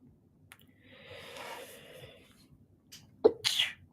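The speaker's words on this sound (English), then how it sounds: "Oh God, I'm sneezing." One abrupt sneeze bursts out from a person at a computer, a sharp close explosive breath after a quiet stretch with faint background noise and a soft inhale before it.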